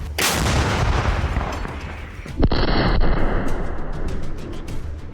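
A 152 mm artillery gun fires with a deep, booming blast that rolls out and echoes, followed by a sustained rumbling roar of the report fading slowly.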